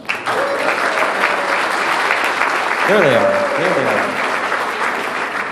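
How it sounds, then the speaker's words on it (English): Steady applause from a conference crowd fills the clip, with someone speaking briefly over the clapping partway through. "give them an applause"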